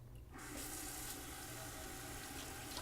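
Steady running water from a tap rinsing a human hair wig starts abruptly and continues as a constant, close rushing splash with no pauses or voices.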